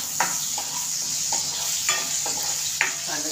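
Onions frying in a pan for dried green pea curry, a steady bright sizzle throughout, broken by periodic scrapes and clinks of a stirring spoon against the pan, close and clear with no talk.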